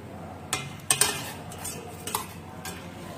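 A utensil stirs rice batter in a pot for bánh đúc, giving scattered scraping clinks and knocks against the pot over a low steady background hiss.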